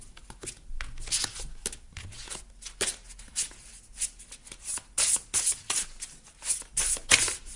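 Tarot cards shuffled by hand close by, with repeated riffling bursts and soft slaps in an uneven rhythm and quieter pauses between them.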